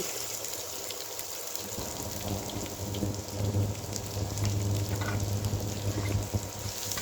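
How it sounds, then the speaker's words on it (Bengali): Chopped onion frying in hot oil for a country chicken bhuna, a dense crackling sizzle that grows fuller and louder partway through, close and continuous with no voices. "এখন পেঁয়াজটাকে ভেজে নেব ব্রাউন কালার হয়ে আসা পর্যন্ত"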